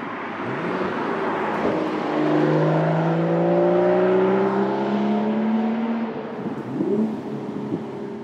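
A BMW Z4 M40i roadster with a six-speed manual gearbox pulls along a mountain road, its engine note climbing steadily through the revs and then easing off, a continuous smooth drone heard from inside.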